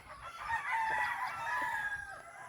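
A rooster crows loudly over a background of chickens clucking nearby, with the crow's harmonic call stretching across most of the moment.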